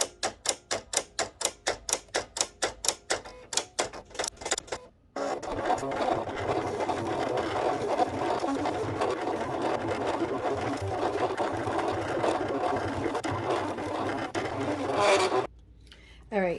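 Silhouette cutting machine working on a sticker sheet on its mat: a rapid run of rhythmic clicking carriage moves, then a steady whirring, scraping drone of blade cutting for about ten seconds before stopping.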